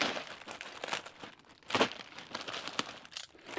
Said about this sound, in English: You can already kind of see, this is a big Ziploc bag. I'm just going to cut apart here.